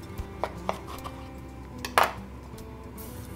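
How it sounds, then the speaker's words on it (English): A kitchen knife cutting a head of cauliflower in half on a board: a few light taps and a crisp crunching cut near the middle, close and fairly quiet, with no talking. "We're just going to cut it right in half"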